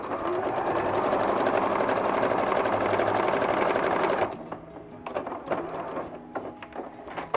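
A sewing machine stitches steadily for about four seconds, sewing a fabric bag organizer, then breaks into short bursts as it backstitches, close and fairly loud with no talking.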